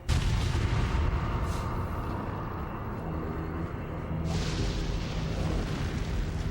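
Red 9 pistol gunfire in Resident Evil 4, loud booming shots layered over a dense, rumbling game soundscape, one sharp burst standing out near the end.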